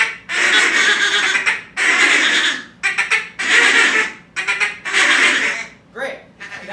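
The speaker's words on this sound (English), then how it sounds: "I'm going to say tick, tick, tick. Just tick into the call," A duck call is blown in short bursts of quick ticking quacks during a youth duck calling seminar, with several sharp close notes separated by brief pauses.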